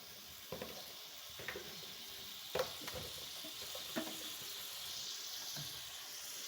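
Cumin seeds frying in oil in a pan give off a steady, close sizzling hiss, broken by a few sharp clicks and scrapes of a utensil stirring against the pan.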